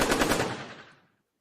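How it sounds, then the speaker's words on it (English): A rapid machine-gun style burst used as a sound effect for a water gun, loud and dense at first, then fading out quickly into silence. "we'll give it a water gun sound effect"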